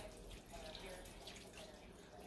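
Tap water poured into a pot of sweet potatoes being cooked into candied sweet potatoes, a steady faint splashing stream that runs continuously for a couple of seconds.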